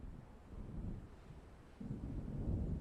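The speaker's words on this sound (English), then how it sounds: "It seems there's a storm coming." Low rumbling thunder of an approaching storm in the video game Alan Wake Remastered, a steady dark roll that swells louder partway through, with a wind-like wash over it and no voices.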